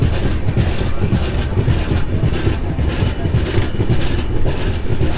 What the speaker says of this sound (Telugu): ఈ క్లైమేట్లో ట్రైన్ జర్నీ చాలా బాగుంది